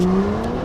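A police car skids sideways with a sustained tire squeal, two steady tonal bands held for most of the moment, loud and close over engine rumble.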